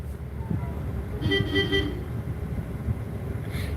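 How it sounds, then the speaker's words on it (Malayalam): A car horn toots in a short burst of a few quick honks over steady traffic rumble in Kochi, with another faint honk near the end. "ഹോൺ അടിക്കുന്നു"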